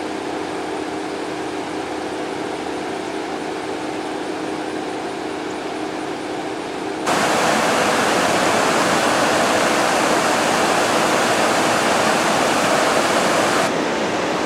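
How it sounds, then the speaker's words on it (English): A small waterfall on a river rushes steadily as broadband white water, holding a constant level before swelling noticeably louder for several seconds and then easing back, with no voices present. "Now the river looks pretty there with the little falls."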